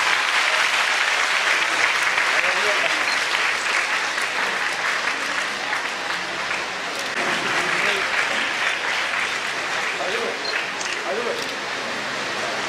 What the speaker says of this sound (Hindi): बच्चों जोरदार तालियां